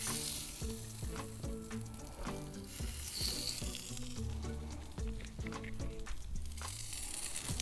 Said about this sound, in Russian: Открываем гриль, выкладываем колбаски.